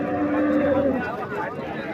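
Cattle at a livestock market, with a sustained low moo in the first second over a busy background of crowd noise and voices.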